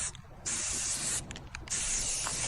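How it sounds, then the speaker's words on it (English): Spray paint hisses onto a car in two long, close bursts separated by short, sputtering pauses, loud and with no talk. "Sean Strickland spray paints his friend's car."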